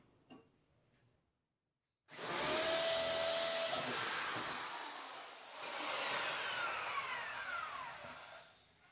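Electric drill boring a hole straight through a wooden frame for a small window made from frames and hangers, a loud steady whine lasting several seconds after a quiet start, dipping briefly midway.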